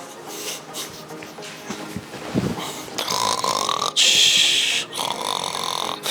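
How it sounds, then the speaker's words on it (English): A person snores in a few rough, rasping breaths, loud and close, with talking around them. "I guess I'm not doing nothing because I'm snoring."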